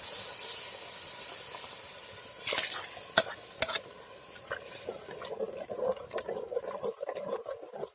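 Water poured into a pan of frying ground masala for a Karnataka-style dry fish curry, with a steady sizzling hiss and intermittent stirring scrapes close by, no talk.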